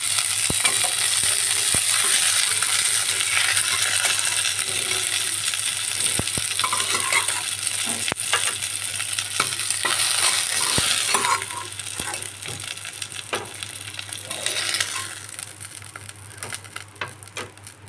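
Pieces of rohu fish fry in oil in a kadai, giving a loud, close, steady sizzle broken by sharp clinks and scrapes as the browned fish is lifted out, the hiss easing and turning patchier toward the end.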